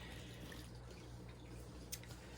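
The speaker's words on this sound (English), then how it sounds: "it's going to look like I'm pouring a lot of water in here" Water poured into loose coconut fiber substrate for a tarantula enclosure, a steady soft trickling and wet splashing that runs the whole time at low level, with a brief brighter splash near the end.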